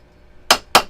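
Two sharp metallic strikes of a hammer on silverware being shaped into a bud vase, spaced about a quarter second apart, close and loud against a quiet background.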